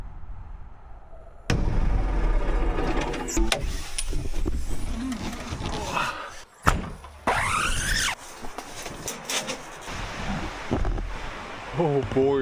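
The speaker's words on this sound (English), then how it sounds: "Oh boy, it's windy." Strong wind buffets the microphone in heavy gusts, roaring and rumbling almost continuously, with squeaky creaking sounds mixed in.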